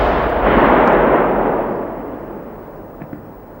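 A HEAT round fires at a NATO heavy triple tank target fitted with an ERA module, a single loud deep boom that rolls and fades over several seconds, followed by a couple of faint distant pops.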